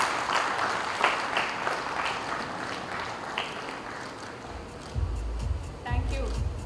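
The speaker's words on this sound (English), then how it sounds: "Can we have a loud round of applause" Audience applause at a lung cancer awareness event, a steady wash of clapping filling the room and continuing for several seconds, with low rumbling and handling noise entering toward the end.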